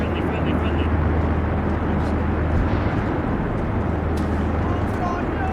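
Steady low rumble of a helicopter engine fills the scene, constant and fairly loud, with faint game sounds over it.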